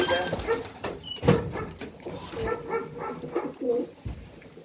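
Pigeons in a loft where the birds have eggs give repeated soft, throaty coos close by, with wing flutters and shuffling between calls.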